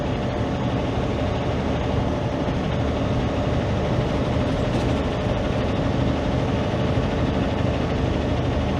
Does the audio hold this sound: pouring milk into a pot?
no